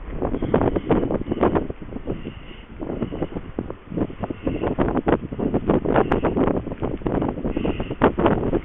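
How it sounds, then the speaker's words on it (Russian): Strong gusting blizzard wind from the south roars and buffets continuously in Pavlodar Region, harsh and close, with no voices. "Вот метель начался сильный, ветер южный."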